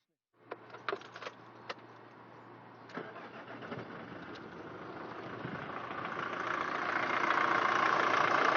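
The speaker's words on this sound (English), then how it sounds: "I'll start the motor right now." A few clicks and jingles, then a diesel car engine cranks and catches, settling into a steady, rattly, slightly shaky idle that grows gradually louder.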